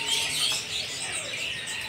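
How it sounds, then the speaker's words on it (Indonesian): White-rumped shama (murai batu) at a busy bird market, bright high whistled notes and chirps rising over a dense wash of other caged birds calling all around. "Murai batu"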